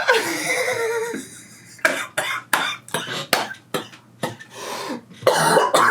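A person recovering from an illness coughs repeatedly in a series of sharp, close bursts, set off by laughter at the start, separated by short pauses.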